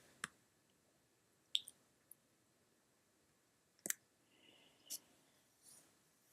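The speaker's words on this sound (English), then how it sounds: "we're going to control click or right click on the layer name in the layers panel" A few sharp, isolated computer mouse clicks while working in the Photoshop layers panel, quiet and spread out with long silent gaps between them.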